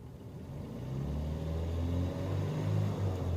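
A car engine revs up past 2750 RPM during a diagnostic check of the variable valve timing solenoid, a low rumbling drone that rises and holds steady, with no one speaking.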